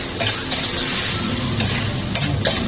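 Spices and aromatics are stirred and sautéed in a sizzling pan, with steady frying hiss and repeated scraping strokes of a utensil against the metal, close and loud.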